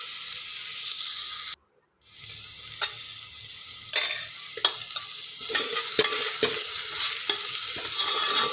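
Carrots sautéing in hot oil for millet kanjee, with a steady close sizzle and repeated spoon scrapes and clacks against the pan as they are stirred; a short silent gap comes early on.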